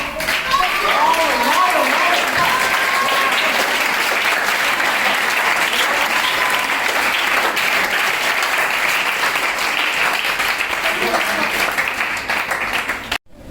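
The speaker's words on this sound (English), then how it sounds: "I appreciate you all the girls because you all clap louder" Large audience applauding and clapping steadily at a boys-versus-girls education event, loud and sustained for about thirteen seconds, with voices audible over the dense clapping before it cuts off abruptly.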